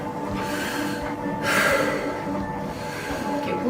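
Heavy, labored breathing of a person on an exercise bike during a cardiac stress test with VO2 measurement, close and continuous with strong snorting inhales and exhales over steady mechanical background noise.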